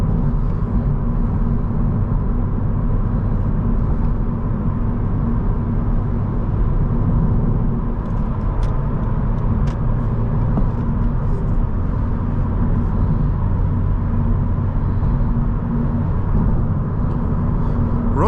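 Steady low rumble of tire and road noise fills the cabin of a 2019 Honda Civic Sport 1.5T with a six-speed manual while driving, a constant broadband drone with no talk.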